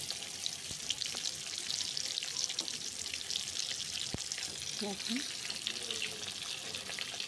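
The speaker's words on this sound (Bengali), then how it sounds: "কড়াইতে তেল গরম করে রেখেছিলাম। তো একটা একটা করে এর মধ্যে আমি পটলগুলো দিয়ে দিচ্ছি।" Pointed gourds (potol) sizzle steadily in hot oil in a wok, a continuous frying hiss with a few soft clicks as pieces drop in, while a person speaks briefly.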